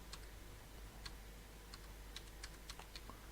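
Typing on a computer keyboard to enter a date in a queue-booking app, heard as faint, scattered key clicks in irregular bursts over a low steady background hum.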